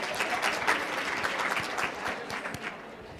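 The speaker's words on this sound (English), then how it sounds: "let's give yourselves a round of applause." Audience applause fills a workplace training session, a steady, dense patter of many hands clapping at close range with no voices over it.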